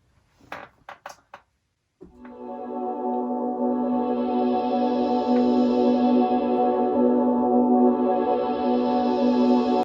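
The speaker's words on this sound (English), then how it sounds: "The second layer of the synth sounds like this, and I've run it through a modulator" After a few brief knocks, a sustained synth tone swells in, run through a modulator so its brightness rises and falls in slow envelope sweeps.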